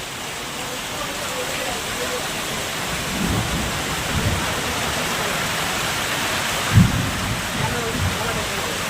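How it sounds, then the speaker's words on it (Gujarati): Steady heavy rain pours over a rural ashram with water running across the road, a constant broadband wash with a few low rumbles of thunder mid-clip and one sharper thud near the end. "જો ગાજવીજ સાથે શરૂ થઈ ગયો છે વરસાદ"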